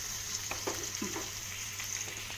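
Chopped curry lemon sautéing gently in a pan for a Kerala-style pickle, giving a steady soft sizzle with a few light stirring scrapes, close and quiet, no talking.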